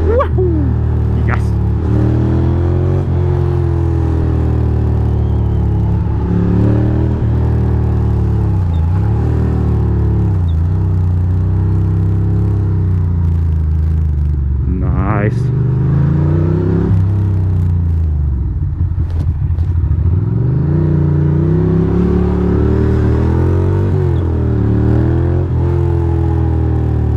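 Motorcycle engine hums and revs steadily while riding through Brooklyn streets, with shifting pitch as the bike accelerates and slows, under constant road and wind rumble.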